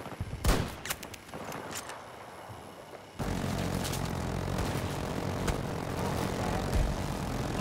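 A Battlefield 2042 aircraft roars in, with scattered gunshots first, then a loud sustained engine drone that fills the rest of the scene close by.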